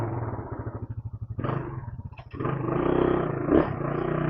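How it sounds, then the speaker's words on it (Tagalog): Rusi Raider 150 carburetor motorcycle with a misfiring engine running close by, a steady loud rumble with uneven, stumbling pulses and brief surges. "Medyo palyado yung motor ko."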